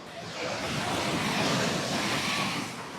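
Strong ocean waves at a busy beach in Sri Lanka, a broad rushing surf swell that builds, holds and eases off over a few seconds, loud and close with wind-like hiss.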